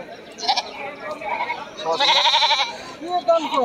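Several goats bleat at a muddy, rain-soaked goat market in Bangladesh, among mother goats and kids; close, wavering cries come in bursts, the loudest in the middle, over a murmuring crowd with talking nearby.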